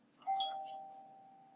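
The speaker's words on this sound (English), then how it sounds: "That was my phone, not my doorbell." Single mobile phone notification chime rings out: one clear, sustained electronic tone that slowly fades, heard alone in a quiet room.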